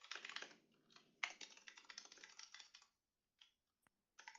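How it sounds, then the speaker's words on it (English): Computer keyboard typing in quick irregular bursts, moderately close and fairly quiet, with short pauses and a few isolated key taps near the end. "Sounds like somebody's typing in the background there."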